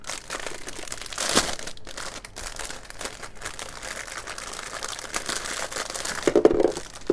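Crinkly plastic packaging around decorative tapes rustles and crackles close up, continuously handled with a few sharper crunches and tearing bursts.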